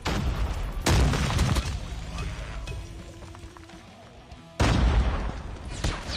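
Gunfire in the mobile shooter Call of Duty Mobile, with sharp bursts of shots near the start and again toward the end and quieter game noise between.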